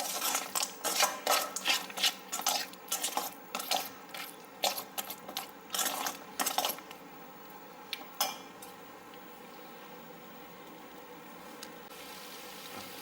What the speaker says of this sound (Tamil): இட்லி பீசஸ் வந்து ஆட் பண்ண பண்ணி நல்லா இந்த மாதிரி கிளறி விட்டுக்கோங்க